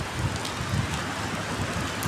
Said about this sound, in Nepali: फेरि आजबाट पानी पर्न फेरि सुरु भयो।